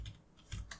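Typing on a computer keyboard, a few quick, quiet clicks spaced irregularly across a brief moment.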